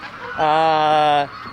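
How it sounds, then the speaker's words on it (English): A loud, close, single sustained honk sounds from waterfowl at a bird-feeding pond where ducks and swans gather. "there's a lot of noise, and that is because of the ducks and the swans"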